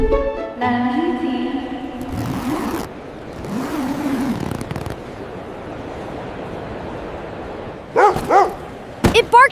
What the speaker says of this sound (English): It barked again!